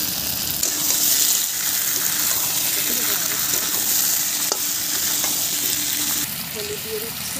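Potatoes frying in a pan after onions and ginger-garlic paste for a Bengali river fish curry, a steady loud sizzle with scraping stirs and small clicks of the spoon, no voices.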